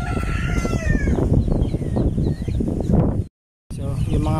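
A crowd of large ducks at a duck farm in Bulacan keeps up a dense, continuous chorus of calls, loud and close, broken by a short silence just before the end.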